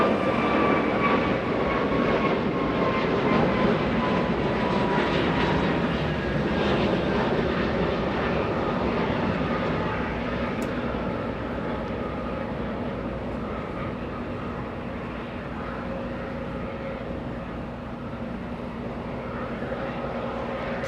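An American Airlines Airbus A321 departing Los Angeles International Airport for Miami gives a continuous roar of jet engines that slowly fades over about twenty seconds.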